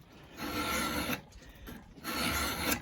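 A hand file rasps across a steel knife blade in two long, loud forward strokes with a brief quieter pause between them, close up and without talking.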